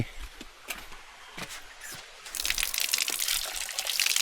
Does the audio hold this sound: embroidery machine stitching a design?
no